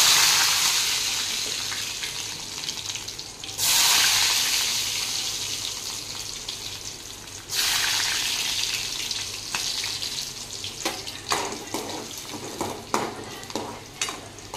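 Chopped garlic and cumin seeds frying in oil, a steady close sizzle with surging bursts as ingredients are stirred and tossed, later broken by quick clattering scrapes.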